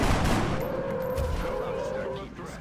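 A soldier's rifle shot in XCOM: Enemy Unknown, one loud sharp burst at the start that fades into a sustained ringing tail.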